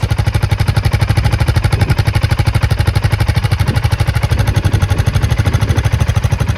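A custom BSA motorcycle exhaust muffler puts out a loud, steady, rapid engine pulse with a deep throbbing rumble, running continuously throughout without any voices.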